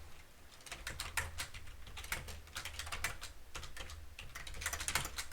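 Fingers tap quickly on a computer keyboard, a busy irregular run of close, crisp keystrokes with short pauses, heard alone without voices.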